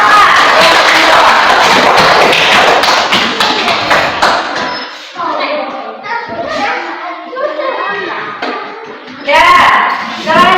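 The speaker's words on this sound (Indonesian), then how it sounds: "Tepuk tangan." A class of children claps together in a busy room: dense, loud rapid clapping fills the first half, then fades into chatter and children's voices.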